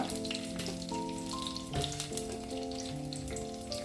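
Urad dal and neem leaves frying in hot oil in a pan: a steady, close crackle and sizzle with background music underneath, and no voices.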